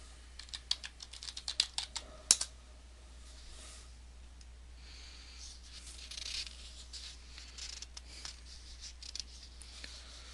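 Typing on a computer keyboard, with a quick burst of key clicks early on and then sparser, quieter taps over a steady low hum, close and faint.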